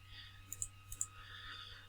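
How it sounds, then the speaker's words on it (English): A few quick, quiet clicks on a computer keyboard key, close and faint, in a couple of brief bursts over otherwise low background hiss. "you just click the tilde key, which is right under the escape key on your keyboard"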